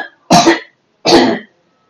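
A woman coughs twice in close succession, each cough loud and close with a short raspy burst and a brief pause between.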